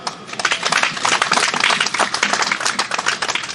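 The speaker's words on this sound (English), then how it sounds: "I want to ask you to clap for your president" An audience at a ceremony honouring Dr Adesina claps for the president, producing dense, continuous applause of many hands with rapid irregular slaps, loud and close, with no voices.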